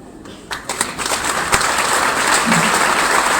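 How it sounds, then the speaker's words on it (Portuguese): An auditorium audience applauds after a lecture, with dense, steady clapping that builds within the first second and carries on evenly and fairly loud throughout, with no voices over it. "receba as palmas mais uma vez do auditório"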